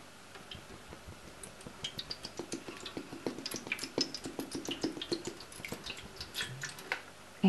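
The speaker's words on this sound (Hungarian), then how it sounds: "akkor teleöntöm ezt a tálat vízzel." Water is poured into a bowl, heard as a quick run of bright drips, ticks and splashes that builds and thickens, then ends with a small knock; fairly quiet and close.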